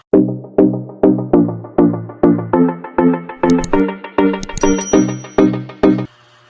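A notification bell sound effect rings in a quick series of about fifteen bright, tonal dings, one every few tenths of a second for six seconds, loud and alone with no talking.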